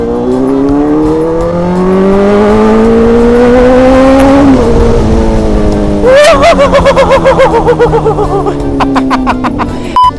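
Yamaha RX King two-stroke motorcycle with a Dynojet tune, engine revving loud and close: rising drawn-out whine, a sharp high blip, then stuttering throttle pulses settling back to idle.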